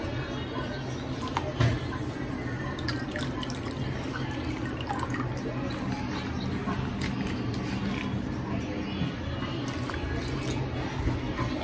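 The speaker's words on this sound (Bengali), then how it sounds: "শাকটা ধুয়ে নিই।" Water runs steadily over leafy greens being washed by hand, with scattered drips and soft squishy handling sounds throughout, fairly close and continuous with no talking.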